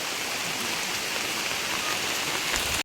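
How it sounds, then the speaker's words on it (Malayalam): Heavy rain pours down at a home farm, a dense, even hiss of drops drumming on surfaces that runs steadily and then cuts off abruptly, with no voices. "നല്ല മഴ, നന്നായിട്ട് നല്ല മഴ പെയ്യുന്നുണ്ട് കേട്ടോ."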